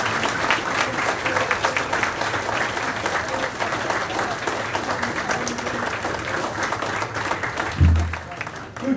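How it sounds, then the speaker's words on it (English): Banquet awards crowd applauding steadily and loudly throughout, a dense wash of clapping from a large room, with a short low thump near the end. "let's give these guys a round of applause"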